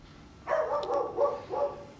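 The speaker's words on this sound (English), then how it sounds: "you'll probably hear one of my dogs in the background" A dog barks in the background in a few short bursts, fairly faint and indoors-sounding, with no talking over it.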